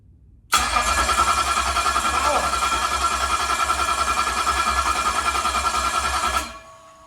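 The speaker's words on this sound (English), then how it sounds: "I'm going to just turn it over, let it turn over, and then I'm going to hit the ignition switch and see what it does" A Ford engine cranks over on its starter without firing, a loud, steady, rhythmic churning that lasts about six seconds before cutting off.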